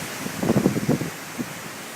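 Gusty wind buffets a microphone outdoors on a balcony during spray painting: a short cluster of low rumbling gusts in the first second, a faint puff later, then quieter steady air.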